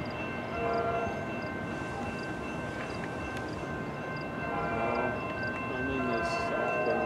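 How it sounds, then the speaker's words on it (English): Amtrak 702 passenger train arriving, a continuous loud rumble of rail wheels and engine with faint tonal bell or horn notes over it, no voices. "Coming in, we have Amtrak 702."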